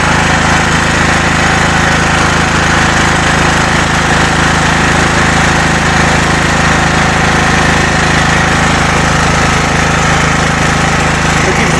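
A Dnipro-M GX-70E generator engine runs steadily on gas in a loud, continuous idle-like drone with constant vibration and no breaks, close to the listener.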